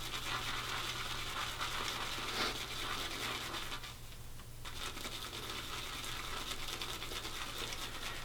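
Close, continuous swishing and frothy scratching of a damp shaving brush working soap into lather, briefly easing off midway before resuming steadily over a faint hum.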